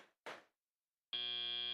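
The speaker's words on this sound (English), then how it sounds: "We hear the buzzer" After a couple of brief noises, a loud, harsh electronic end-of-match buzzer at a robotics competition blares and holds steadily.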